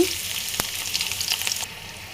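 Chopped onion hits a pan of hot oil with chilies, bay leaf, cinnamon, cardamom and cloves, giving a loud, steady sizzle and a brief stir, with no talking.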